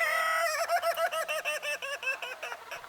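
Chickens and a rooster at Shady Grove Farm break into a loud, close burst of rapid, rhythmic cackling and clucking, like a laughing call that pulses quickly and trails off.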